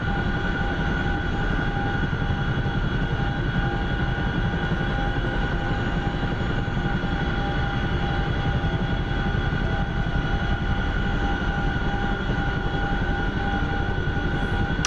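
A Grumman fixed-wing aircraft flies nearby, heard as a loud, steady engine drone that fills the whole stretch without a break.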